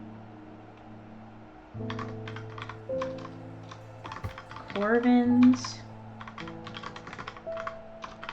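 Rapid clicking keystrokes on a computer keyboard typed in short bursts close to the microphone, over soft background music, with a brief spoken word partway through.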